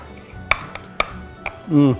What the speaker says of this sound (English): I'm just going to run a quick chop through it